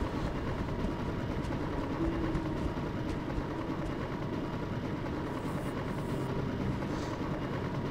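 Helicopter in the video game Mercenaries: Playground of Destruction, a steady, dense rotor and engine drone that holds constant throughout.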